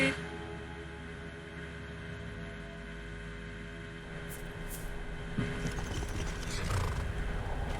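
Horse hooves clip-clop in the video game Skyrim, soft rhythmic steps over a low ambient game hum, with a faint neigh-like tone, quiet and without speech.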